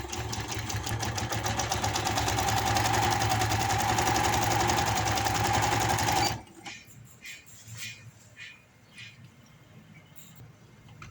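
A sewing machine stitches the side seams of palazzo pants, a fast, steady mechanical whir for about six seconds, then stops, leaving faint clicks and handling sounds.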